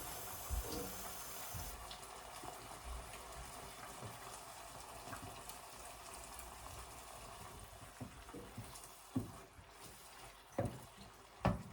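Water being poured, a soft continuous trickle and gush, faint and close, with a few louder splashes or knocks toward the end.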